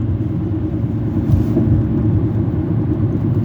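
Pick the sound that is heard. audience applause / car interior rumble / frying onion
car interior rumble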